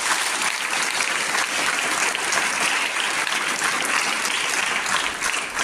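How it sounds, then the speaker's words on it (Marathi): At a poetry book launch ceremony, an audience gives sustained, vigorous applause, a dense continuous clatter of many hands, loud and close throughout. "एकदा अक्षरदालनसाठी सुद्धा आपण जोरदार टाळ्या वाजवूया."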